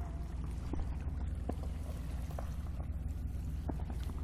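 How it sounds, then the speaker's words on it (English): Wake from a passing boat of about 24 feet laps and splashes irregularly along a Lake Huron shoreline at Alpena, Michigan, with small sloshing bursts over a low, steady rumble. No voices. "Waves from that big boat that just went by,"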